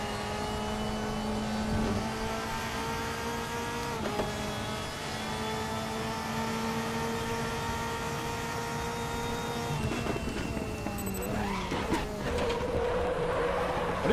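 Mercedes-AMG race car engine in RaceRoom at Zandvoort, a loud sustained high-revving whine that holds steady, dips briefly on gear changes and climbs again, with no voices.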